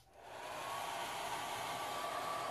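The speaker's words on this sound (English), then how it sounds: "Let's see how it likes the hairdryer." A hairdryer is switched on over resin poured on canvas, its steady airy whoosh rising quickly to full strength and holding constant, close and alone.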